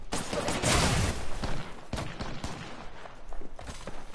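Gunfire in the video game Apex Legends crackles in scattered shots, one dense burst and then separate cracks over a steady noisy game background, moderately loud.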